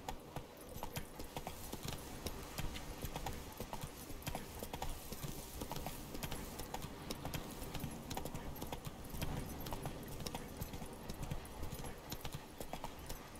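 Roach, a horse in The Witcher 3 video game, gallops in a steady, fast clip-clop of hooves that runs continuously and fairly loud, with faint tack jingling mixed in and no talk.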